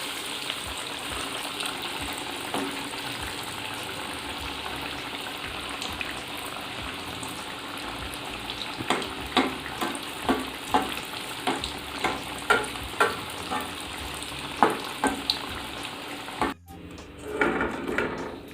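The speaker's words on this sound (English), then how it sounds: "like this we must fry golden brown and remove" Beef cutlets fry in hot oil with a steady sizzle, joined by a run of sharp clicks and clatters from stirring or turning them, before the sound cuts off near the end.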